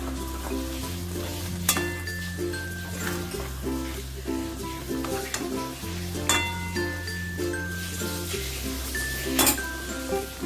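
Bhola fish frying over a high flame, a steady sizzle under several sharp metallic clinks of a spatula against the pan as the pieces are flipped, with low tonal music underneath.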